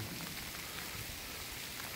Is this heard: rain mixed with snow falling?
yes